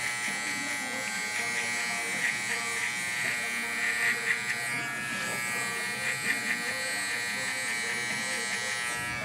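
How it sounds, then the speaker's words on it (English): Electric hair clipper buzzing steadily during a barbershop haircut, a continuous close whine with slight shifts as it moves through hair, with talk over it. "So I'm gonna use the whole clipper"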